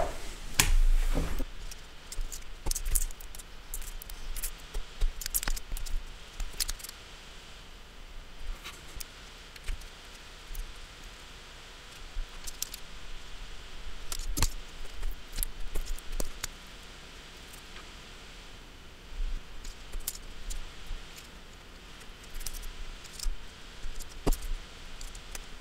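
Scissors snipping GPU thermal pads during a thermal pad replacement on an Asus TUF RTX 3080 graphics card, a series of quiet, close crisp clicks and snips scattered irregularly over soft rustling, with no talking.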